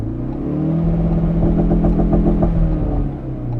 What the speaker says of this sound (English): Let's give this launch control a try, see if it's still playing up